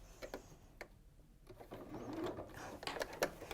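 A domestic sewing machine stitches quilt pieces together with a scant quarter-inch seam, giving short quiet bursts of rapid mechanical whirring with pauses between runs.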